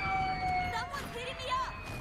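A wailing ambulance siren in a zombie video game, its steady tones sweeping up and down under game noise, with voices chattering and cheering nearby.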